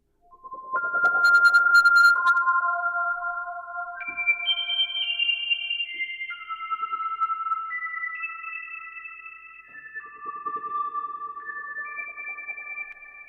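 An FM synth from the BLEASS Omega iOS app plays a bright, bell-like melodic pattern. Its notes are clear and sustained, with a rhythm driven by LFOs. A short noisy burst opens it, and the tones are heard alone.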